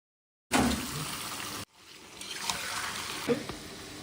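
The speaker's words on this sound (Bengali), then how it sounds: "অনেকবার ধুয়ে নিলাম, 4-5 বার জল দিয়ে ভালো করে ধুয়ে নিলাম।" Running water splashing as food is rinsed four to five times in a home kitchen, with a steady gush that cuts off, then resumes more softly with small splashes and clinks.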